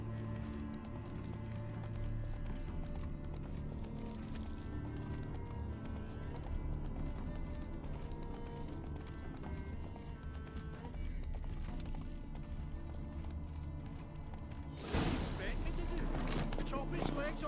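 Horse hooves clattering at a gallop in The Witcher 3, a continuous rhythmic clip-clop under game music and layered effects, with a sharper burst of noise near the end.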